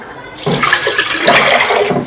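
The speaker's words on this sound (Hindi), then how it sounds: "और इसके साथ ही मैं इसमें ये पानी भी ऐड कर रही हूँ" Water from a glass pours into a pot of rice for kheer, a steady close gushing splash that starts abruptly and runs on for about two seconds with no talk.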